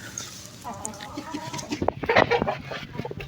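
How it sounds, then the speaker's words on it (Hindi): Hens sitting on eggs cluck softly nearby on a farm, with a short murmur of calls followed by a louder burst of clucking near the end. "यहाँ पे मैंने मुर्गियाँ बिठाई हुई हैं 2 अंडों पे"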